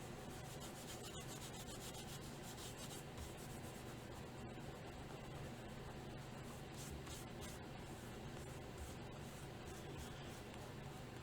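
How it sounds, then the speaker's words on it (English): Torn paper pressed onto a collage background with thinned glue, rubbed by hand in a steady, close, quiet scratchy rubbing that continues throughout with no talking. "then I'm going to rub over top of it to glue it to that background"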